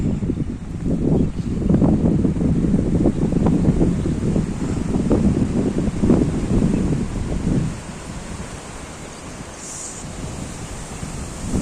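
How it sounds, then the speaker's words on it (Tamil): Strong desert sandstorm wind in Dubai, a loud continuous roaring rush with gusty buffeting against the microphone, easing slightly toward the end. "மணல் புயல் பயங்கரமாக வீசுது"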